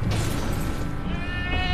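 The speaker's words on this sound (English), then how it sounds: "He even gives the goat roar." A goat-like roar from a creature in a fantasy video game, a loud, strained bleating cry that rings out close and alone.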